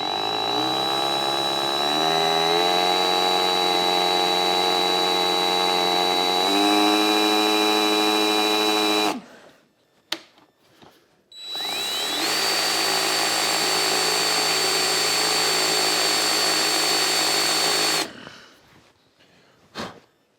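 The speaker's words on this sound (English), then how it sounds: "we're going to see if we can actually drill into it" A power drill whines loudly at a steady pitch for several seconds while drilling into a bolt on an XR250R motorcycle, stops briefly with a few knocks, then runs again before cutting off.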